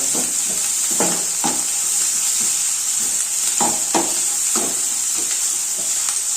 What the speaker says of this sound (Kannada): ಈರುಳ್ಳಿ ಸ್ವಲ್ಪ ಇನ್ನೂ ಫ್ರೈ ಆಗಬೇಕು